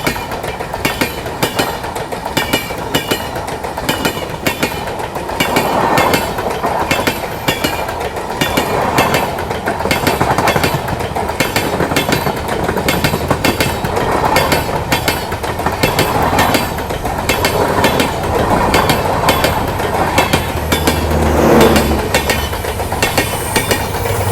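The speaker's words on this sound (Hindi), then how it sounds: "भाई ये निकल कंचनजंगा एक्सप्रेस, सियालदह सबरूम।" The Kanchenjunga Express, running Sealdah to Sabroom, passes close by at a station in India, with a long steady clickety-clack of wheels over rail joints and a low engine rumble, loud throughout.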